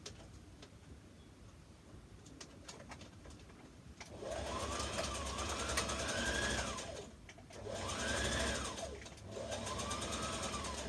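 A sewing machine stitches a dress shoulder seam with a 5/8 inch allowance, two close whirring runs with a brief slowdown between them, after a quiet stretch of faint room noise.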